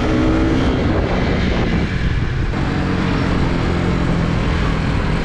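A Husqvarna Vitpilen 250 motorcycle engine roars steadily and loudly at close range through an aggressive downshift, with dense wind and road noise blended in and a brief dip in the engine note partway through.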